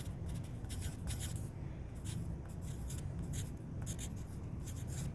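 A pen or pencil writes on paper, close scratchy strokes in quick irregular bursts over a low steady background hum, with no talk.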